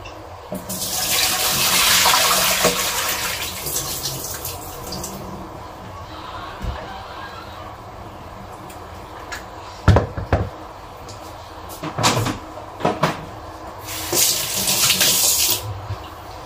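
Hot tap water runs over broccoli being rinsed in a kitchen sink, a steady close splashing stream that surges and fades, broken by a few sharp knocks and clatters of the florets and the bowl.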